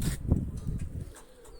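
A pigeon coos in low, soft throaty bursts close by, brief and repeated over a short stretch with light background noise.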